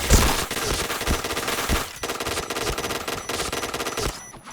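Rapid automatic gunfire from the video game Point Blank, dense continuous bursts with sharp single shots near the start, loud and close, fading out at the end.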